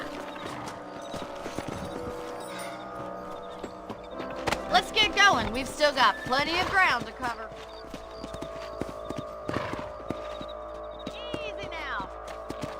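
Horse hooves clip-clop steadily in Red Dead Redemption as riders set off across ranch land, a horse snorting and whinnying midway, with someone talking over the gait throughout.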